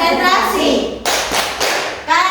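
Children in a fourth-grade classroom chant and clap a concentration routine, voices in unison punctuated by sharp bursts of group clapping in a quick rhythmic pattern, loud and close.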